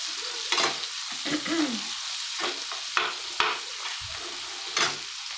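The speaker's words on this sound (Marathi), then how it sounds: "असं चांगलं असं तळून घ्या कांदा थोडा लाल होईपर्यंत" Onions fry in hot oil for restaurant-style pasta, giving a continuous close sizzle with repeated scraping strokes and sharp clinks from a spatula stirring the pan.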